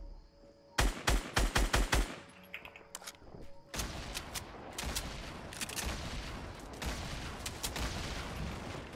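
Gunfire in a Fortnite battle royale match: a rapid burst of sharp, loud automatic shots, then softer scattered shots and distant firing over the continuing game noise.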